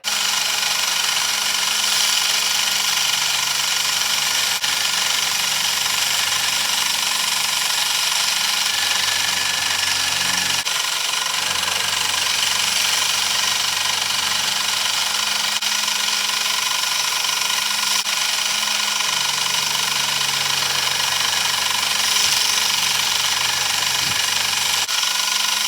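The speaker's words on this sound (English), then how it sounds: "once I make the pass, I'll shift back and forth that much, and that should make it a 3 millimeter wide slot" A machine steadily cuts a 3 millimeter wide slot for a quarter-scale speeder bike control part, giving a continuous loud grinding drone with slight shifts in pitch and no voices.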